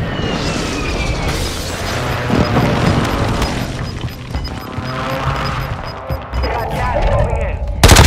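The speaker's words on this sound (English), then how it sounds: "Friendly airstrike on the way." Airstrike explosions in Call of Duty: Modern Warfare II crash and boom through a dense, loud battle mix, with heavy low rumble, sharp impacts and gunfire-like cracks, and a strong burst near the end.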